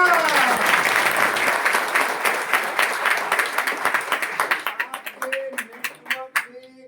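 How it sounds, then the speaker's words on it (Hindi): An audience bursts into loud, dense applause that gradually thins into scattered individual claps as it fades out, with a voice briefly emerging near the end. "एक बार जोरदार तालियां।"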